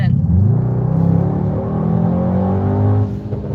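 A 2020 Mercedes-AMG GT 63 S accelerates hard at full throttle, its engine a loud, steady rising roar that pulls continuously for about three seconds before easing off, with a faint voice briefly underneath.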